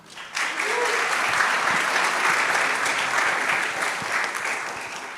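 An audience at a hackathon final presentation claps steadily and warmly, a continuous wash of applause starting abruptly and lasting the whole stretch.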